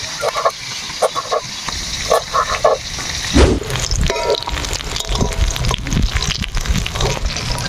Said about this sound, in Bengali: আমার মাছগুলো ভাজা হয়ে গেলে ইঙ্গা ওঠাই নিব।